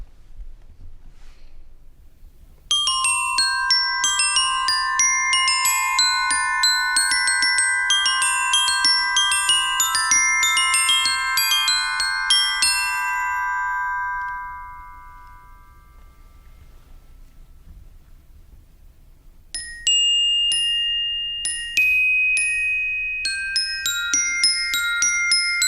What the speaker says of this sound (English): The bells, also called the glockenspiel, are an example from the pitched side of the percussion family.